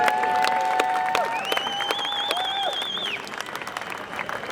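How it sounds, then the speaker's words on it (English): Crowd applause at a Believe in Scotland march and rally in April 2024, greeting the artist Kirsty Heggie; steady, dense clapping continues throughout with bright whistles rising over it. "round of applause for Kirsty."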